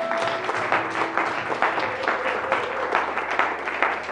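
Church congregation applauding the word of the Lord during a French-language sermon, steady clapping filling the whole stretch with no pauses, broad and moderately loud.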